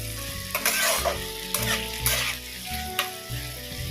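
Prawns fry in a pan for a Bengali chingri dish, a soft continuous sizzle broken by several stirring scrapes and spoon knocks in close, quiet succession.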